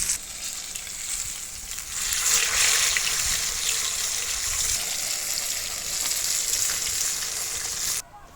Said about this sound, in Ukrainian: скуштувати рибу, котра смажиться на вулиці